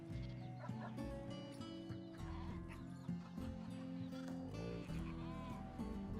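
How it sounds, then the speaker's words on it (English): Chickens cluck in the RimWorld colony sim, mixed with livestock bleats over a steady layer of game music that runs throughout. "We have so many chickens. They just keep multiplying."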